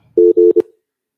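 A telephone line busy signal during call trouble, sounding as three loud, steady electronic tones in quick succession, the last one shorter, then silence.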